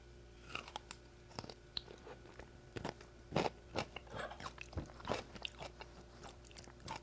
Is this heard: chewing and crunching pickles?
yes